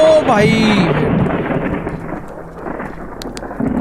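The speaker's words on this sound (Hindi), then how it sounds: "ये इतनी तेज बिजली कड़की" Thunder cracks loudly in a horror video game, a single close, booming peal that rolls and fades over a few seconds, with rain noise beneath it.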